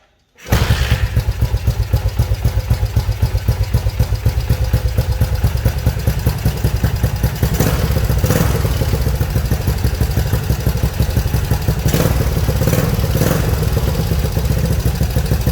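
A 1978 Suzuki DR370 motorcycle engine idles loud and close after starting, a rapid steady single-cylinder chugging with clattery mechanical ticking, running continuously without speech.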